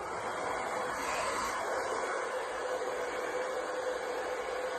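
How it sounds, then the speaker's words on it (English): A steady, even blowing whoosh of a hair dryer runs without a break, moderately loud and constant throughout. "Where's my hair dryer? Okay, yay, it's gonna be loud."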